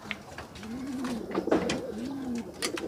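Racing pigeons in a breeder loft give soft, rolling coos, two close calls in a row over quiet background, with no talk.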